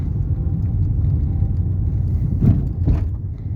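A 2005 Daewoo Lanos SE T150 engine idles with a steady low rumble, heard close, with a couple of faint knocks near the end.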